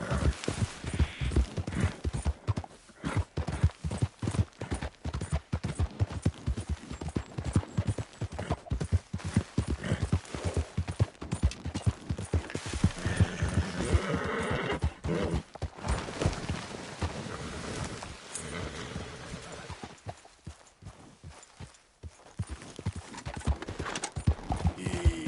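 A horse gallops in Red Dead Redemption 2, its hooves drumming in a quick steady rhythm through most of the stretch with a brief whinny, with slower footfalls and a calmer patch near the end.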